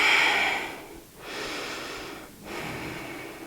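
Slow, deep breaths during a yoga flow: two long airy exhalations or inhalations pass through the nose and mouth, close and fairly loud, with short pauses between them and no talking.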